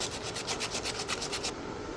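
Rhythmic rubbing strokes of sandpaper on a small wooden acoustic Les Paul-style guitar headstock, close and steady, with even back-and-forth scratching that eases off near the end.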